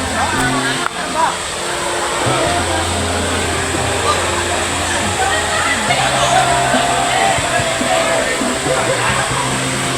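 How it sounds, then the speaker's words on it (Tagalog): Broad steady rush of a river flowing past a campsite, continuous and fairly loud, with low rumbling tones and a voice speaking over it. "Yun yung ilog."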